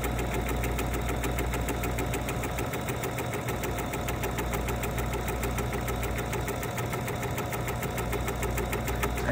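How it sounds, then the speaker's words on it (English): A sewing machine stitches a 3/8 inch side seam on a cosmetic project bag, giving a steady, fast, even mechanical whir that runs unbroken from start to finish. "So I'm gonna sew, and I'm doing a 3/8 inch seam"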